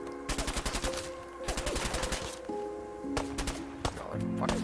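Rapid bursts of gunfire at a shooting range in the video game Fallout 4, with repeated sharp shots in quick volleys over steady game background tones and music.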